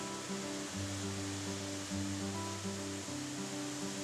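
Steady broadband rush of cascading water along the Virginia Falls trail in Glacier National Park, a continuous full roar of falls and cascades with no voices, even and unbroken throughout.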